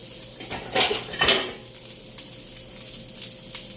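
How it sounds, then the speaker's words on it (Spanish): Fried onion is lifted out of a pan with metal utensils, two loud clattering scrapes against the pan over a low sizzle, then lighter scattered taps. "Ahora nomás vamos a retirar la cebolla."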